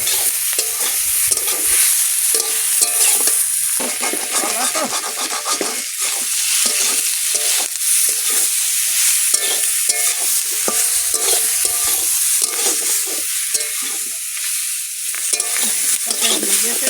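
A banana, potato and puti fish curry with turmeric and salt sizzles steadily in the pan, broken by repeated close scraping strokes of stirring, with no one talking.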